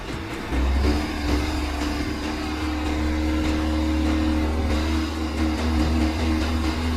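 A Volvo XC90 labours on an off-road trail, its engine droning at steady high revs while the wheels slip. The engine sound is continuous and fairly loud, with a constant tonal hum throughout.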